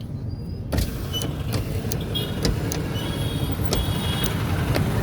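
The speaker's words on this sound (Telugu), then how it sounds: "చూసుకోండి మొత్తం ట్రాఫిక్" Heavy road traffic heard from inside an air-conditioned car: a continuous low engine and road rumble with scattered sharp knocks and passing-vehicle sounds, steady and moderately loud, with no talk.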